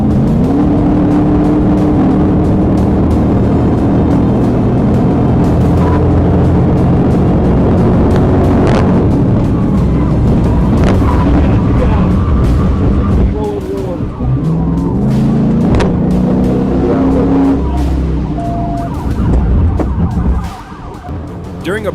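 High-speed police pursuit on the interstate with a car weaving through traffic at 120 mph, a loud continuous engine and road roar with passing-vehicle swells and sharp transient thumps throughout.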